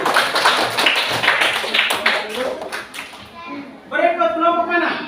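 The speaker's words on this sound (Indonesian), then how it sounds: "kita berikan tepuk tangan kepada kelompok 1" A class claps for a group of students, with a burst of hand claps that thins out, then a voice speaks over the fading applause.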